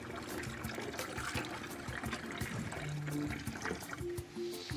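Capers rinsed under running water in a kitchen, a steady trickling and splashing stream with brief pouring surges, fairly close and continuous throughout.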